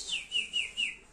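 A magpie robin chasing a sparrow gives four quick, bright chirps in a steady rhythm, clear and close, with no voices over them.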